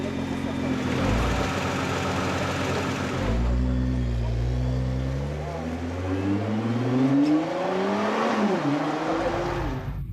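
A 2013 Nissan GT-R on a Japanese test track pulls away, its engine revving up through rising and shifting pitches, fairly loud from inside the cabin, with a voice speaking over it.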